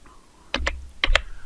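Typing on a computer keyboard, a few distinct close key clicks in two quick pairs separated by a short pause, in a quiet room.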